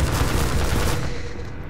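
Enemy gunfire in Half-Life 2: Episode One, a dense, loud fusillade of rapid shots and bursts rattling continuously close by, easing off slightly toward the end.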